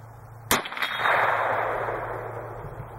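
A single sharp Winchester .22 WMR rifle shot cracks loudly outdoors, followed by a ringing metallic echo that fades over the next couple of seconds, heard alone without talking.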